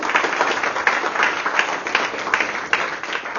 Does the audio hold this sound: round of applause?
yes